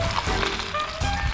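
Chicken neck meat sizzles steadily on a hot grill outdoors on a cold, windy mountain on Ulleungdo, a close, continuous crackling fry with no voices.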